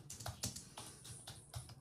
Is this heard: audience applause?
no